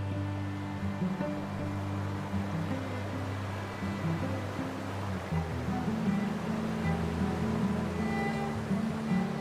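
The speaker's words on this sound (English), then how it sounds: "Water spills down the rock face in layers, filling the whole gorge with mist and sound." A waterfall at Wulai spills down a layered rock face into a gorge, giving a steady, full roar of rushing water that holds level throughout with no voices.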